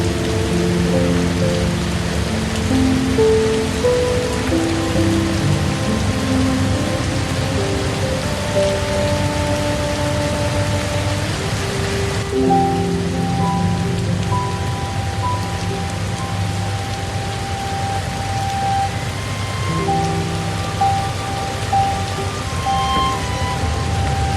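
Steady heavy rain falls on a treehouse in the Costa Rican rainforest, a dense continuous wash of drops on the roof and leaves, loud and unbroken throughout.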